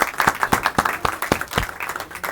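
Brief applause fills a Chilean Constitution Commission session: a small group claps in fast, steady, close beats with no talk over it.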